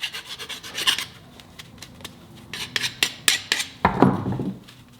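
Deburring a freshly cut 5/16 AN hard line with a hand tool gives quick scraping, rasping strokes and light metallic clicks in an uneven rhythm, close by and without talk.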